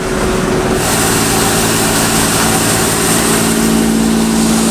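An old John Deere combine engine runs loud and close, a steady rumbling drone with no pauses throughout.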